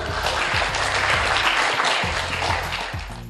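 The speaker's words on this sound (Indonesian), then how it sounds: "Tepuk tangan dulu ya." Broad, steady applause fills a hall at an Indonesian student activist celebration during language month, with a low droning tone pulsing underneath and the clapping thinning toward the end.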